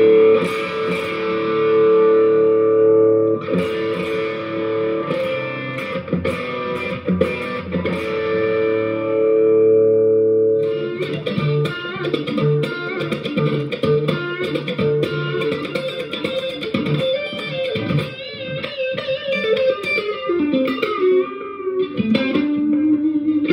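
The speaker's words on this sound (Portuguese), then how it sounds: "Ok, é o extreme distortion." Zoom G1on multi-effects pedal on an extreme distortion setting, an electric guitar playing heavily saturated sustained chords and then busier riffs, loud and thick, with no talking.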